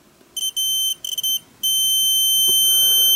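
A high, steady electronic beep from a multimeter continuity test on a fuse sounds in short bursts, then holds as one continuous tone, close and clear with faint background noise.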